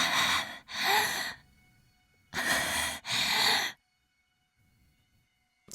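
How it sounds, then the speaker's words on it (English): Heavy breathy panting in a Chaos;Child visual novel scene, four loud close gasping bursts in two pairs with a pause between them, like breath right at the ear. "I heard panting in my ear."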